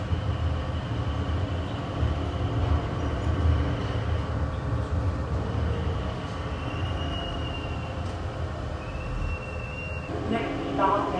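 Dulles Airport AeroTrain people mover running on its guideway, a steady rumbling ride with brief high squeals as it slows to arrive at a station, ending with a burst of door or brake noise.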